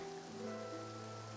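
Steady rain falls in Fontaine in Genshin Impact, a continuous soft hiss with a low hum beneath it.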